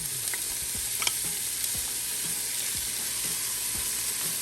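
Onion frying in a pot as the base for Venezuelan sancocho, a steady soft sizzle throughout with occasional scrapes and taps of a spoon stirring, close and without talk.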